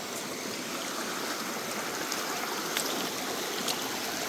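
A Pennsylvania creek flows steadily, a dense continuous rush of water with faint trickles and splashes, moderately loud and close, no voices.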